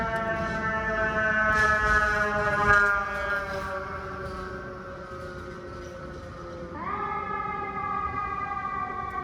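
A wailing ambulance siren rises and falls continuously, fairly close and steady, with its pitch shifting partway through as it passes.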